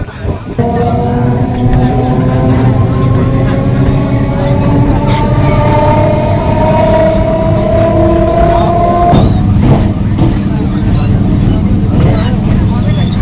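Loud, steady rumble and rattle inside a moving Canning local train out of Sealdah, with sustained tonal whine from the motors rising in pitch and a sharp jolt near the end.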